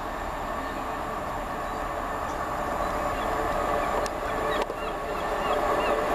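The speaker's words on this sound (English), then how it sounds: "the 1513 Arriva trains well service from Carmarthen to Manchester Piccadilly via Cardiff Central, Hereford, Shrewsbury, Crewe and Wilmslow. It's that 150 again." Class 150 diesel passenger train at Port Talbot Parkway station, a steady rumble with a constant mid-range drone and a couple of brief sharp clicks near the end, heard fairly close without talk.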